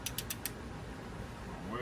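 A torque wrench tightening a bolt on a 2023 Suzuki 250hp outboard gives four quick, sharp ratchet clicks near the start, followed by a low, steady mechanical hum.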